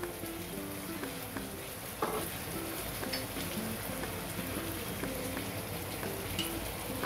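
Vegetable Manchurian fries in a pan while tomato sauce is added, giving a steady, close, crackling sizzle with a few brief louder spatters.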